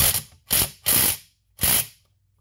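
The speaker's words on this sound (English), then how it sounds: "ratcheting system works" The starter ratchet on a vintage Homelite chainsaw clicks through four short, loud buzzing bursts of rapid pawl clatter, each lasting a fraction of a second with quiet gaps between, close up and alone.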